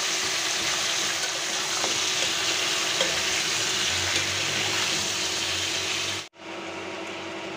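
Beef is added to onions frying in mustard oil, with a loud, continuous sizzle and stirring noise close up, then an abrupt cut and a brief quieter sizzle; no one speaks.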